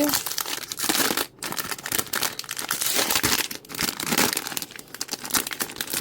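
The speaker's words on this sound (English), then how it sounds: "So let me open up the bag." A plastic blind box bag holding a Labubu toy crinkles and tears loudly up close as it is pulled open, a dense stretch of crackling with brief pauses.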